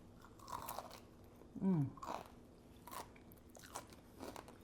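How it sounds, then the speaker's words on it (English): Someone bites into crispy garlic Parmesan smashed potatoes, giving one loud close crunch, then a few softer chewing crunches at intervals, with no talking. "I'm going to give this a quick taste of these crispy garlic Parmesan smashed potatoes."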